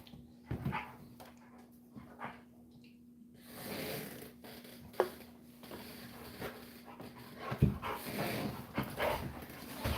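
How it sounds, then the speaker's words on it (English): A dog pants, snorts and whimpers close by in a quiet farmhouse room, in short scattered bursts with soft shuffling between them. "The dog noises are funny for like 30 seconds"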